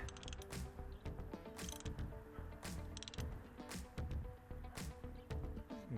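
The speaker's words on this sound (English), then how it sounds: "We're going to tighten up this post, get it snug." A ratcheting wrench tightens a battery terminal post on a Toyota Camry, giving repeated clicking ratchet strokes in an uneven rhythm, close and fairly quiet, with no speech.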